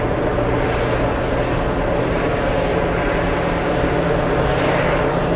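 A Lufthansa four-engine jet taking off at JFK, its dense, continuous engine roar loud and close, steady in strength throughout with no speech.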